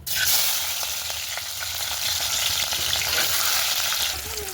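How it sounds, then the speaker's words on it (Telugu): Onions and green chillies frying in hot oil in a pan for a mushroom curry, a loud, steady close-up sizzle with crackling throughout and no talking. "ఉల్లిపాయలు ఫ్రై అవుతున్నాయి"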